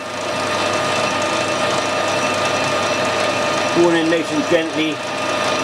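A metal lathe slowed down for parting off a part runs with a steady whirring drone. Someone talks briefly near the end over the machine noise.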